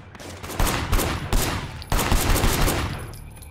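Gunshots in the Sleeping Dogs video game come as several loud, close bursts of rapid fire in two volleys separated by a brief pause, with echoing tails.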